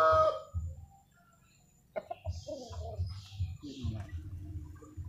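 Burmese (Birma) chickens at a chicken market in Bondowoso, with a loud close crow or squawk at the start, then clucking mixed with people talking nearby.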